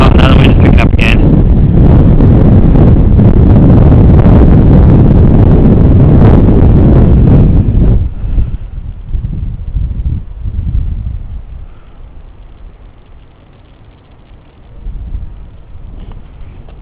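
Wind blows hard across the microphone at a golf course by a resort on a gusty day, a loud roaring rush for several seconds that then eases into softer, uneven gusts.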